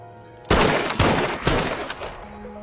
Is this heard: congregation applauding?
no